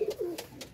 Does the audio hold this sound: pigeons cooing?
yes